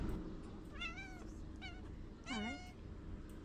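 A tortoiseshell cat meows several times in short succession, two quick rising calls followed by a longer drawn-out meow, close and clear over a faint background.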